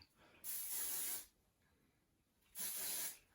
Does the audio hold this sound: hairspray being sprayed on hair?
yes